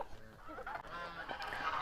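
Geese kept on a small homestead honk in a continuous cluster of harsh, nasal calls, fairly close and moderately loud, with no talking over them.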